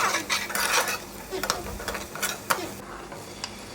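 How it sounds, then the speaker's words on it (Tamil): Chopped onion with biryani spices and green chilies is sautéed in a pan for mushroom biryani: a steady sizzle runs under repeated scraping and clinking as a spatula stirs the mixture, close and moderately loud. "ஒரு பெரிய சைஸ் வெங்காயம் பொடி பொடியாக கட் பண்ணி போட்டிருக்கேன். நல்லா வதக்கி விட்டுக்கோங்க ப்ரௌன் ஆகிற வரைக்கும்."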